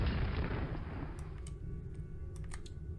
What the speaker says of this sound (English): So we've got the rocket launcher. So now we should be able to blow these up.